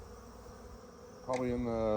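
Bees buzz busily around their hive on a warm Memorial Day, a steady, faint insect drone that carries on throughout, with a voice starting to speak over it partway through.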